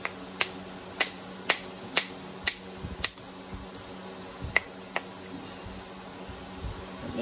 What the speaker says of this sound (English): Now I'm going to use this one here and come back the other way.